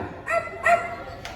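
A dog gives two short, sharp barks close by, then a fainter third yip, with quiet pauses between them.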